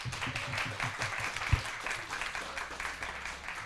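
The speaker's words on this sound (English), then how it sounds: "Can you give everyone a massive round of applause?" Student audience applauding after a section of a students' union election debate, an even, moderately loud stretch of clapping with one sharp thump partway and low chatter beneath.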